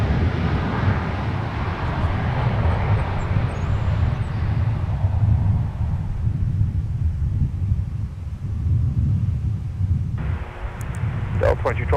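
An Airbus A321 airliner arriving at Minneapolis–St. Paul Airport, a broad roaring jet rumble that is loud at first and slowly fades, with faint radio chatter and wind noise.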